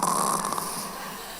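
A preacher's voice imitates snoring with one drawn-out, rasping snore, loud and close, trailing off softly.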